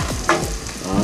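Straw mushrooms fry in teriyaki sauce with a steady close sizzle, and a few scraping stirs break through it during the short stretch.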